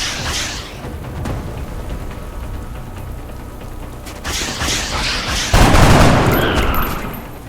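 Soldiers' weapons fire in XCOM: Enemy Unknown, loud, ragged bursts crackling through the last couple of seconds over a steady rain-like hiss and mechanical noise, with a quieter stretch earlier.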